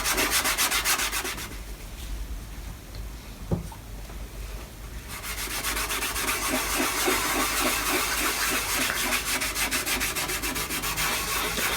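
A cloth rubs polish over the dirty varnish of a violin, one small section at a time, making a close, steady scrubbing hiss with a single soft knock partway through, growing denser and louder in the second half.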